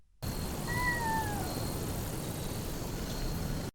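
Newborn kittens cry from inside a shed: one thin, faint mewing call rises and falls early on, set against a steady low hiss with no talking.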